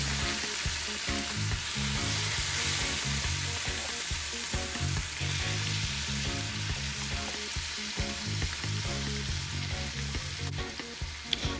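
Oxtail pieces sear and sizzle in browned, foaming sugar in a pot, a steady loud frying hiss with crackles and small pops throughout, no talking.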